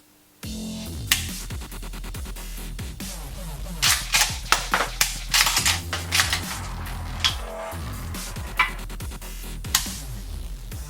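A PPS shell-ejecting airsoft shotgun is test fired at close range, producing a series of sharp snapping shots and mechanical clacks of pumping and shell ejection, spaced irregularly, with no speech.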